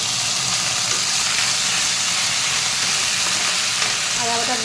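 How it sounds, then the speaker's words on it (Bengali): Ginger paste frying in a pan while being stirred, a dense continuous sizzle, close and fairly loud, with faint scraping and no talking. "আদা বাটা দিয়ে একটু ভালো করে নেড়ে নেব।"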